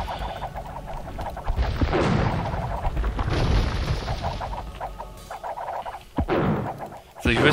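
A cannon galleon fires in Age of Empires II during a siege of Paris, dull booms and impact thuds landing amid battle noise, with someone commentating over it.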